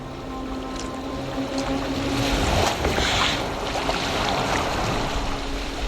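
A boat moves across open water in Assassin's Creed Valhalla, with a steady wash of waves and wind rushing continuously, with no voices.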